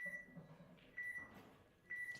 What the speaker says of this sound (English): It's beeped on the 10 seconds.